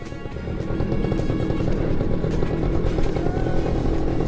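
A Yamaha F1ZR motorcycle engine runs loud and close, a steady raspy drone with a rattly, clattering edge that holds at the same level throughout.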